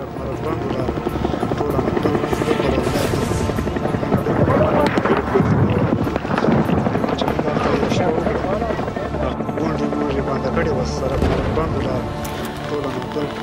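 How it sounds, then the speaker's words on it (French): Russian helicopters fly overhead, their loud, continuous rotor throb and engine roar filling the whole stretch, with voices speaking over it and occasional distant booms. "Les avions et les hélicoptères russes nous survolaient, ils cherchaient des cibles."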